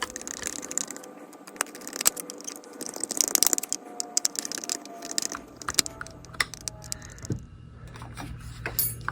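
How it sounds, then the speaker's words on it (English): Four screws being tightened on a boat engine's magneto plate make a run of sharp, close clicks and ratcheting ticks, busy in irregular bursts and then thinning out toward the end. "Once you get it set on, tighten all 4 screws."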